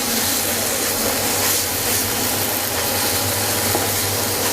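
Nuts and raisins stirred into hot carrot halwa in a pan, giving a loud, continuous hissing sizzle with a broad steamy texture and no voices.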